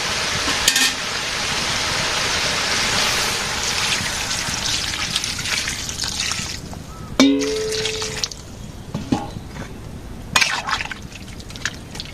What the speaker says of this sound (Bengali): সবজি কষানো হয়ে গেছে ঝোল দিয়ে দেয়